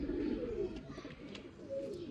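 Pigeons kept for kabootar bazi racing coo in low, rolling bursts nearby, with a steady murmur of several birds throughout and faint chirps above.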